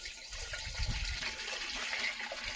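Jamun juice strained clear of pulp being poured from a container into a pot, a steady liquid gush with a fuller splash near the start, close and continuous without speech.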